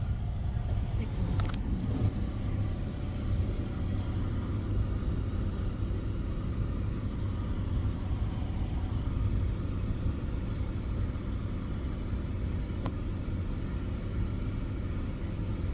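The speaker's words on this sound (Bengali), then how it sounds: "আমি বুঝতেছি না যে এত দ্রুত ছুটতেছে কেন গাড়ি" A car driving along a road, heard from inside as a steady low engine and road rumble that continues evenly throughout, with no clear speech.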